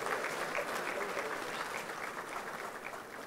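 Audience applause at a university graduate school congregation ceremony, a steady wash of many hands clapping that holds at an even level throughout without pausing.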